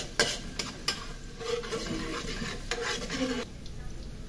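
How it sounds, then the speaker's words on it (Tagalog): Garlic frying in oil that is still heating, a steady soft sizzle with a few sharp clinks and scrapes of a utensil stirring the pan, close and moderately loud, no talking. "Habang umiinit, unti-unting naluluto yung bawang."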